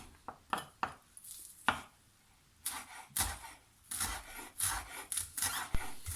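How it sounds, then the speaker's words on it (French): A knife chops herbs such as chives finely on a cutting board, a few sharp isolated taps at first, then quicker bursts of scraping cuts, fairly close and quiet. "On va essayer de couper comme ça finement."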